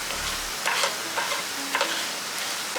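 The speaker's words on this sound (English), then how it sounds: "Give it a nice mix." Chicken pickle with Kashmiri chili powder being stirred in a pan: a few scraping, rustling strokes spaced about half a second apart over a soft steady sizzle, close and fairly quiet, with no talking.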